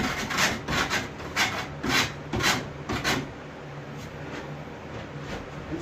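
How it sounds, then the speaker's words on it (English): A hand rasp scrapes down a coyote taxidermy form in a series of about eight rough back-and-forth strokes, close and loud, then a steadier softer rubbing. "I can rasp that sucker down that way."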